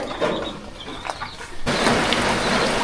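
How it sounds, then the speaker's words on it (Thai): Heavy rain pours down during a stormy day and night outdoors, a dense, steady hiss that swells abruptly louder partway through, with faint scattered drips and patters, and no one talking. "ฝนเนี่ยไม่มีทีท่าว่าจะหยุดเลยค่ะ นี่ มีแต่ตกหนักขึ้นเรื่อยๆนะคะ"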